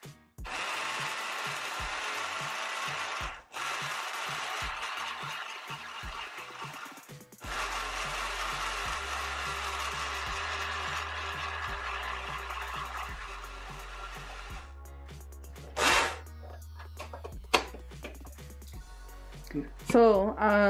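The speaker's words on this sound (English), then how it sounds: "So I'm gonna put it on the blender just to make it soften and make it into a paste." Blender whirring steadily as it purees green onions and parsley into a jerk seasoning paste, running in long loud bursts with brief pauses and a low motor hum, no talk over it.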